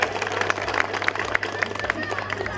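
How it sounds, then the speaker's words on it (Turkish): Audience applause at a village association's spring festival, a busy patter of many hands clapping amid crowd chatter, fairly close and steady throughout. "Kuvvetli bir alkış istiyoruz lütfen."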